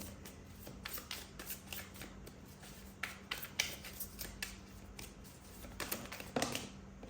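A deck of tarot cards is shuffled and drawn, steady soft riffling and slapping card sounds with crisp flicks, close and quiet over a faint background hum, with no talk.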